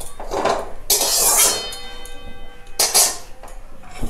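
A metal wok is set down on a gas stove, making two sharp clanks with a faint ringing tail and some lighter clattering between them.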